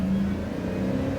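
A 2004 Chevy Silverado pickup with the 4.8 V8 engine accelerating, giving a steady, fairly loud mid-pitched engine drone with a sustained low hum and no voices.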